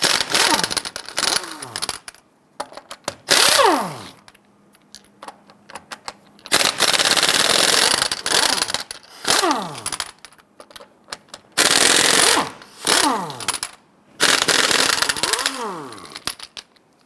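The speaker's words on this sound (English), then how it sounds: "Using a 22mm socket, go ahead, loosen and remove the lug nuts." A 22mm socket on a power tool loosens and removes the rear wheel lug nuts on a Jeep Grand Cherokee. Several loud, rapid ratcheting bursts are separated by brief silences, and each burst winds down as a nut spins free.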